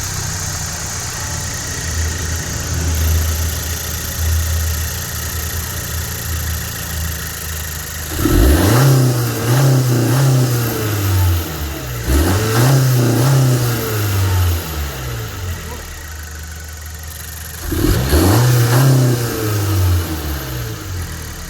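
A 10th gen Honda Civic Sport hatchback's 1.5L turbo engine, fitted with a K&N air filter, idles and then climbs through three loud revs that rise and fall in pitch, close by with no voices.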